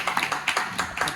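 A small group of people at a farewell gathering clap in a quick, uneven rhythm, with several sharp claps close together in short bursts.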